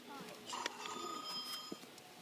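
A child's toy cash register ringing as it rings up play money, giving short electronic bell-like tones and beeps, with people talking over it.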